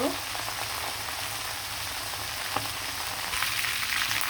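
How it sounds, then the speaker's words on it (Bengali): Chicken leg pieces fry in hot oil with a steady, close broadband sizzle that holds evenly throughout, with a couple of small pops and crackles and no talk. "সবগুলো মাংস কিন্তু আমি ভেজে ভেজে নিব"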